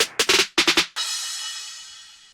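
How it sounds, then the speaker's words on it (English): A beat's crash cymbal accent hits after a few quick punchy drum strikes, then rings out bright and washy, slowly fading over about a second and a half, with no voices. "the crash is like an accent for when the beat actually drops"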